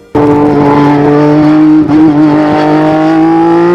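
Late-1980s Formula 1 car with a 1.5-litre Honda V6 turbo engine, screaming loud and close with a steady high-pitched tone that holds and shifts briefly mid-way before continuing, with no talk.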